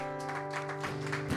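A church congregation applauds in a brief, steady patter of clapping under sustained music.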